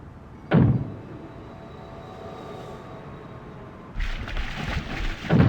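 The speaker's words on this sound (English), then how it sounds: "If you don't open, we'll break down the door." A door being broken down in The Longest Journey: one heavy thudding impact, then a quiet rumbling stretch, then a louder crashing, splintering burst as it gives way, with no voices over the impacts.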